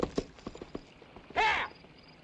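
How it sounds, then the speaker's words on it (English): Horse hooves clip-clop in a quick uneven series of hard knocks, followed by a louder burst that sounds like a short whinny, all close and with no talking. "Damn horse."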